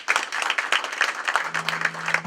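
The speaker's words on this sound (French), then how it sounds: "Mes frères, mes sœurs, je vous prie d'acclamer très fort pour ce temps" Applause from a congregation at a memorial celebration of life, dense, steady clapping from many hands filling the space, loud and continuous with no voices over it.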